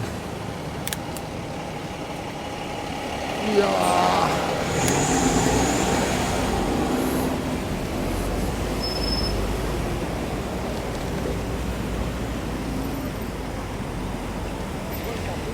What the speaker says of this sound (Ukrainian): Ось як я тут пробираюся між машин.